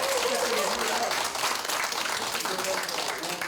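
Audience applause for an organ performer at a Korean stage event, a dense steady wash of clapping filling the room with voices mixed in throughout.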